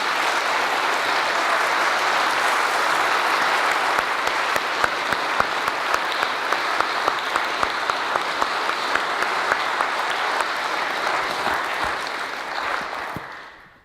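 A concert audience breaks into sustained applause, a dense, loud wash of clapping with a few sharper claps standing out, holding steady before fading quickly at the end.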